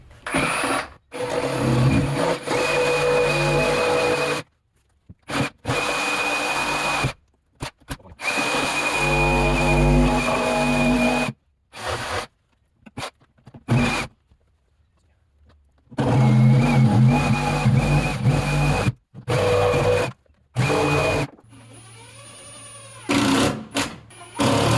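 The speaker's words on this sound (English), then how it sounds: "Sawzall for this." A Sawzall reciprocating saw cuts in loud, harsh bursts separated by short pauses and brief silences, close to the microphone.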